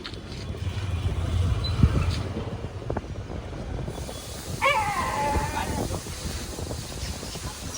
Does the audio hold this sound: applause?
no